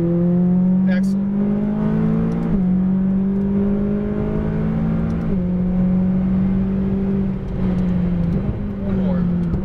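A McLaren 570S accelerates on a race track with a loud, close engine whine climbing through several gear shifts, while an instructor's voice talks over it.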